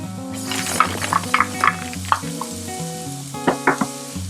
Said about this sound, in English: we're just going to saute the onions and the peppers